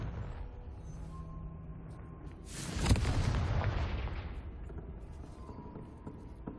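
Explosive spells Bombarda and Confringo go off in Hogwarts Legacy on Switch 2: a single sudden blast about midway, with a rumbling tail that fades over a second or so against quiet game ambience.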